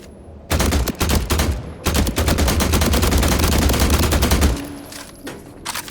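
Rapid automatic gunfire from The Last Caretaker video game rattles loud and continuous in long bursts, a brief pause near the start, then tails off into quieter ambience for the last second.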